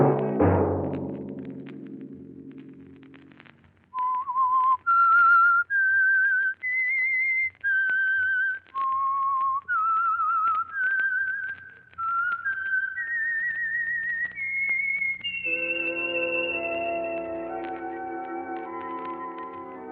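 After a brief ringing tone, a single clear whistle carries a slow melody of held notes as a radio mystery program's theme, ending on sustained musical chords.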